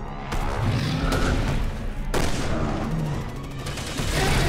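Rapid bursts of gunfire in Resident Evil 6 with booming impacts, loud and dense, firing in quick volleys over several seconds.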